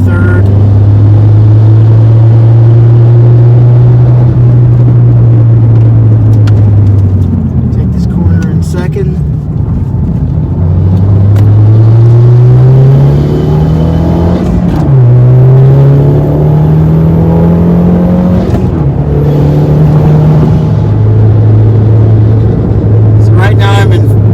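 A loud simulated race car engine drones and rises through the revs, then drops sharply in quick downshifts, with someone talking over it.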